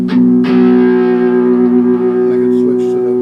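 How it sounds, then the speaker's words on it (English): A Trev Tele-style electric guitar from San Diego Custom Guitars, with Lindy Fralin pickups, rings through a distortion pedal. Two quick picked attacks lead into a thick, sustained overdriven chord that hangs loud and buzzing for several seconds, with no talking. "Distortion pedal."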